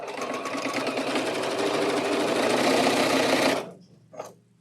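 A computerized sewing machine stitches in a fast, steady, even whir for about three and a half seconds, then stops abruptly, followed by a brief faint click.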